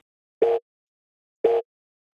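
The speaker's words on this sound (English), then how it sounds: "we start by taking this simple telephone engaged sound" Two short, evenly spaced electronic beeps of a telephone engaged tone, detuned down five semitones, separated by silence.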